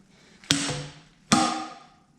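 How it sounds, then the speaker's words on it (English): Two sharp metallic knocks about a second apart, each ringing out briefly, close and loud with no talking: a fork tube slide-hammered in its slider to pop out the fork seal on a 2019 Harley-Davidson Fat Boy. "we use the fork tube in the fork slider like a slide hammer and keep jerking on it"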